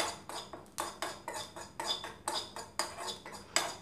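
A utensil scrapes and stirs a frying mixture in a pan for a home remedy, a steady run of rhythmic metallic scrapes roughly every third of a second, close and fairly quiet over a faint background.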